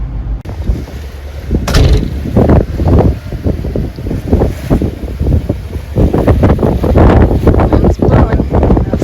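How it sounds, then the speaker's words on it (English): Wind gusting at about 16 knots over a boat in a channel, roaring steadily into the microphone with rushing bursts and some water slap, loud and close with no talk. "Wind's blowing about 16 knots."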